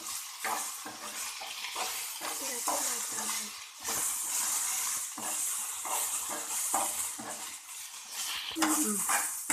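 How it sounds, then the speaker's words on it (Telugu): Okra frying in oil for a pickle makes a steady hiss and sizzle with repeated stirring scrapes and clinks of a utensil against the pan, close and continuous throughout. "బాగా వేగేదాకా వేయించాలి."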